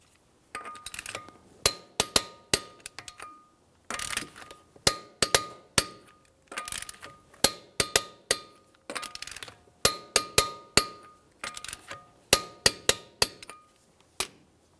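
On a 2006–2012 Ford Fusion, a wrench works the wheel lug nuts to torque, giving many sharp metallic clicks in quick bursts, close and crisp, with short pauses between nuts.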